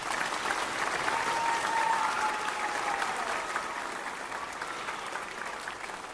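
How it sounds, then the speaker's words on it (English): An audience at a school band concert applauds in a dense, steady wash of clapping that swells early and then slowly fades, heard from within the hall. "please, a round of applause for them"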